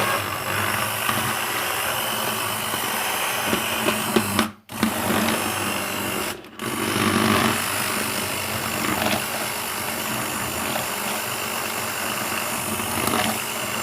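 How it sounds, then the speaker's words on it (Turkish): Food processor whirring as it blends cooked lentils for ezogelin soup, a loud continuous motor whine interrupted by two brief pauses, with no voices. "Şimdi biraz rondodan geçireyim bunu."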